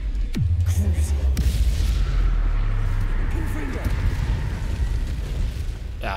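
A Bombarda explosion spell from Hogwarts Legacy goes off with a sudden deep boom and a low rumbling tail, followed by a second blast and continuing rumble, heavy and close, with a voice speaking over it.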